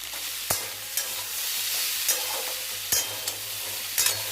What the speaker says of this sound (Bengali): তো মশলাগুলো দিয়ে ভাজাভাজি করে নিয়েছি, এবার দিয়ে দেবো একটু মিষ্টি আর দিয়ে দেবো শাকগুলো।